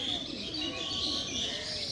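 Pigeons coo softly and continuously nearby, with a few chirps mixed in and no talk over them.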